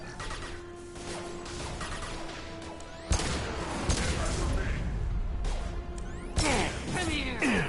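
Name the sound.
gunfire in combat, video game Mass Effect 2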